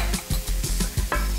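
A spoon stirs red chili powder into fried onion, coconut and garlic in a hot pan, giving a quick run of about seven close scraping strokes over a soft sizzle.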